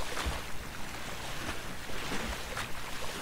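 Footsteps wading through shallow, knee-to-waist-deep water in the Black Mesa video game, with several soft splashes and sloshing surges over a steady watery wash, fairly close and continuous with no talk.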